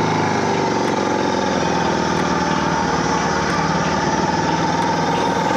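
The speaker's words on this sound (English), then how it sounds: "Turn my bike on if I can." A Suzuki DR650 motorcycle engine idles steadily and close by, a continuous buzzing single-cylinder putter with no changes in pace and no voices.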